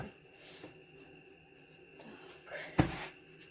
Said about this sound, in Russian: По-моему, я стучу слишком этой каталкой.